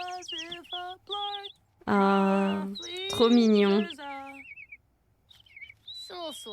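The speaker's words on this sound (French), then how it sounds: "Elle va juste en profiter pour discuter un petit peu avec les oiseaux" Cheerful birds chirp and warble in a cozy nature video game, with bright, repeated calls broken by pauses, while someone speaks briefly in French.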